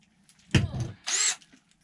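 Two short bursts from a power drill while insulating a cabin floor and ceiling, a low grinding whir followed by a higher-pitched spin, close by with quiet gaps around them.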